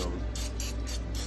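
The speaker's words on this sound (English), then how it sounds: "I'm gonna spray on top of this chicken a little bit where the batter is" Olive oil is sprayed in short hissing bursts onto battered chicken bound for an air fryer, about five quick close sprays in a rhythmic series over a low background hum.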